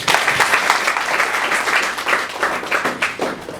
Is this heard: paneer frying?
no